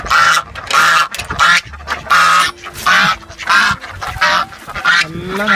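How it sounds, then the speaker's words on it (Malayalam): A flock of farm ducks quacks impatiently and loudly in repeated overlapping bursts, close by, with brief gaps between the calls. "താറാവുകളെ ഇവിടെ ഭയങ്കര അക്ഷമരായിട്ട് സൗണ്ടാക്കി നിൽക്കുന്നുണ്ട്"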